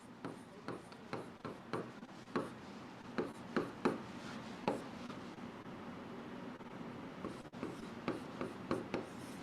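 Chalk or a pen writes a chemical formula on a board in a series of quick, close strokes and taps, arriving in irregular bursts with short pauses between, fairly faint in a quiet room.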